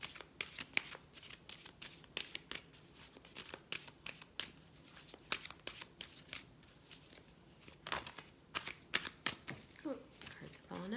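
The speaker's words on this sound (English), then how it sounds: "Oh, cards are falling out." Tarot cards are shuffled by hand over and over, giving crisp, close riffling and flicking bursts in an uneven rhythm for the whole stretch, with a faint voice near the end.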